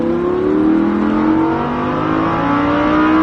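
A Lamborghini Huracan accelerates at full throttle on the Magny-Cours club circuit, its engine note climbing steadily in pitch in a loud, close, sustained run.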